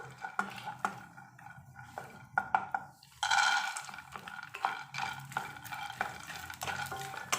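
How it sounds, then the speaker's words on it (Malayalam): Fried coconut being stirred and mixed into a puffed rice snack, giving scattered scraping and clinking taps of a spoon against the pan, fairly near and alone. "എന്നിട്ട് നമുക്കിതെല്ലാം കൂടെ നല്ലപോലെ ഒന്ന് മിക്സ് ചെയ്യാം"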